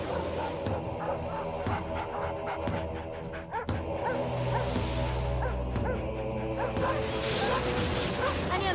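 A team of sled dogs barks and yips repeatedly in a busy, overlapping chorus, with whimpering notes mixed in, set against a dense musical background and a shouting voice.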